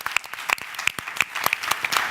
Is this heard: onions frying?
no